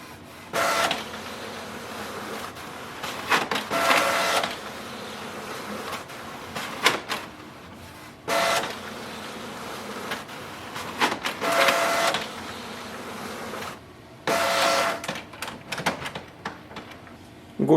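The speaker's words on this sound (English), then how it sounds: "Start print. So it's going to take around 5 minutes." A Canon Pixma TR7820 printer printing a page, with repeated bursts of whirring, buzzing carriage motion separated by quieter mechanical pauses, steady and close with no talking.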